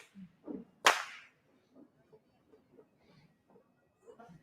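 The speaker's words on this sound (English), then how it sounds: "these whip crackers manipulate their whip very cleverly and without hurting their colleagues" A single sharp whip crack snaps out loud and close during the Randoli Perahera procession, with faint crowd murmur and other soft sounds around it.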